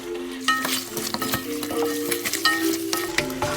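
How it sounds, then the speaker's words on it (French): Rabbit stew seasoned with Guérande salt and ground pepper being stirred in a pan, a close sizzle with frequent scraping and knocking from the spoon, no talking. "maintenant on va remuer tout ça"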